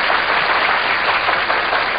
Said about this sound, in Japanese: 拍手でお迎えくださいませ